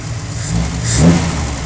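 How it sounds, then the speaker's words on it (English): A fully restored Triumph TR6 sports car's carbureted engine idles close by, then gives one short, smooth rev that swells and falls back within about a second. "The carburetors make a very, very beautiful sound."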